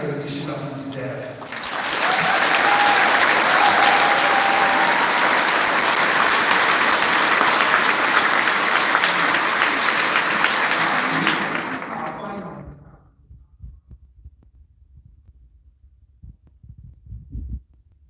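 Audience applause at a 2025 graduation ceremony in Edinburgh, a dense, loud sustained clapping that swells quickly, holds for about ten seconds, then fades out into scattered faint sounds.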